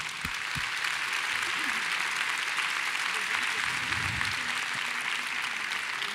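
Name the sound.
audience applause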